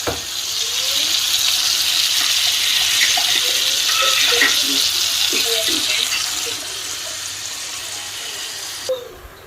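Water runs steadily into a bowl of rice for jerk chicken rice, a close splashing pour that eases off after several seconds, followed by a faint clink and quiet kitchen background.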